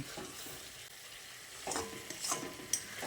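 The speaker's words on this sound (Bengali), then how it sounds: "এবার আমি আরও একবার এইভাবে নেড়ে চেড়ে নিচ্ছি" Ridge gourd frying in oily spice masala, stirred with a spatula: a soft, low sizzle broken by a few louder scraping strokes near the end.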